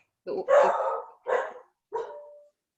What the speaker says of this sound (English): Hey, Judith, your dog is going wild